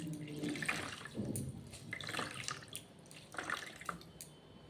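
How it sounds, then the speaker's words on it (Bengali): A towel soaked in hot water is wrung out, sending a faint, close trickle and splatter of dripping water through a few seconds of quiet. "এই যে গরম জল করে একটা টাওয়েল নেবে, সেটাকে ভিজিয়ে চিপে নিয়ে মুখটা মুছে নেবে।"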